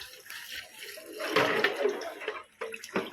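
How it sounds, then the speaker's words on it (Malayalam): Water poured from a vessel into a pot for ghee rice, a short uneven splashing and trickling pour that swells midway, briefly stops, then resumes, close and moderately loud. "എന്തായാലും കുറച്ചും കൂടി വെള്ളം അതിൽ ഒഴിക്കുകയാണ്."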